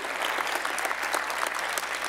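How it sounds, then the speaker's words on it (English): Steady applause from a crowd, dense clapping that fills the whole moment with no break. "please give each one of them a round of applause"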